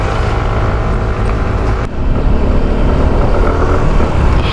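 A Yamaha Mio Gear 125 scooter is ridden along, its small engine droning steadily close by, mixed with wind and road noise, with a brief dip partway through.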